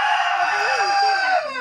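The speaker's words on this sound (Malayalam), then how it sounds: "നിങ്ങൾ കണ്ടു" A rooster crows loudly and close by in one long drawn-out call, with a hen clucking beneath it as the crow trails off.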